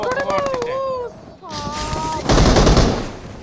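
In the mobile battle game BGMI, a short rapid burst of gunfire rings out near the end, loud and close, after a player talks over the game.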